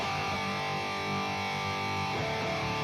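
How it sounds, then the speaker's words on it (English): A distorted electric guitar with a DiMarzio Chopper T pickup, played through a Tube Screamer overdrive pedal and amp with reverb, sustains a thick, saturated chord with a reverberant tail, then is struck again partway through; no voices. "right now I'm running through my Tube Screamer and my amp, my Cab IR"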